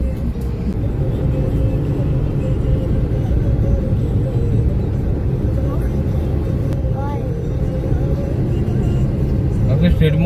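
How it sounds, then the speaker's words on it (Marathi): Dense Mumbai road traffic rumbles steadily, heard from inside a Renault Kwid on a road trip: a continuous low engine and tyre drone with occasional horns, while people talk inside. "ट्रॅफिक आणि फक्त ट्रॅफिक."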